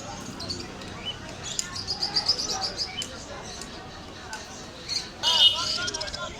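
A pair of large Danish pigeons call among other birds at the Hasnabad Wednesday bird and pigeon market, with scattered chirps and squawks over a steady murmur of crowd chatter and a louder burst of calls near the end.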